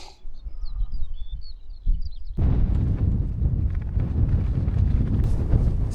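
Strong wind gusts along the Dales High Way upland trail, buffeting the microphone in a loud, continuous low roar that takes over after a stretch of quieter air with chirping birds.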